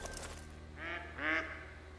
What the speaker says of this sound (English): Wood ducks.